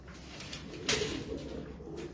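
Pigeons cooing softly at a distance, a low murmuring coo over steady background hum, with a brief sharper rustle partway through.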